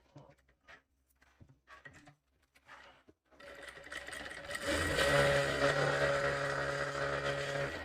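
A sewing machine stitches a cross strip for a katori blouse. Soft handling rustles and pauses come first, then a steady mechanical whir builds close and loud and runs continuously to the end.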